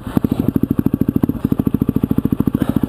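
A Yamaha WR250 motorcycle engine idling and revving close by as the ride begins, a loud, rapid, even thumping pulse with a slight hitch midway; no talking.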